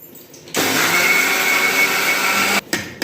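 A mixer grinder whirs loudly at high speed for about two seconds, starting abruptly and cutting off, then briefly restarting.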